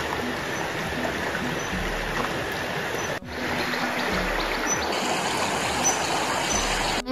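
A river runs steadily along its bank near a village at Bandipur, Tanahun, a continuous close rushing and burbling of water with no pause.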